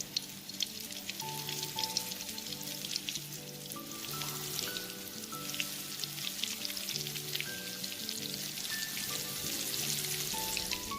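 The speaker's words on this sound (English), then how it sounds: "add in some oil and fry these balls in medium heat." Prawn balls sizzle and crackle steadily as they fry in hot oil over medium heat, while soft melodic music plays in the background.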